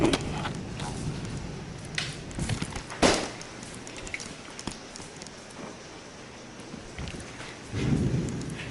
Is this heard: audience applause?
no